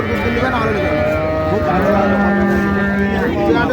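Dairy cows and calves lowing at a busy village cattle market, the Raniganj haat in Dinajpur: drawn-out, overlapping moos over a constant loud crowd din, with people talking nearby.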